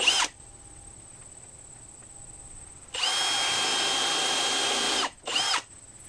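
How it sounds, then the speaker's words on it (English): A power drill pre-drills a wooden barn window frame for a timber frame build: a brief whir, a pause, then a sustained high drilling whine for about two seconds and a short final burst, close and loud. "I like to pre-drill these."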